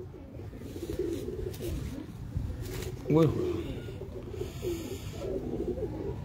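A highflyer pigeon lets out a single short coo partway through, heard alongside someone talking steadily over a low background hum.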